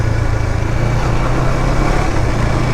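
A car engine braking downhill in second gear holds a loud, steady low drone with no rise or fall throughout, and no voices.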